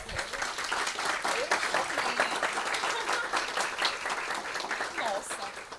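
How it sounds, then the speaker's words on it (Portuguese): Steady, fairly distant audience applause welcoming an engineer speaker at a lean construction lecture, continuous clapping for several seconds with voices underneath. "eu gostaria que vocês recebessem, com a salva de palmas efusivas,"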